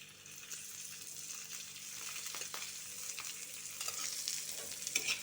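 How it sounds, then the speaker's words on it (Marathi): Sliced onion frying in oil in a pan for Maharashtrian shev bhaji, a steady close sizzle throughout with occasional light stirring scrapes. "तेल टाकून त्याला चांगलं छान लाल करून घ्यायचं आहे."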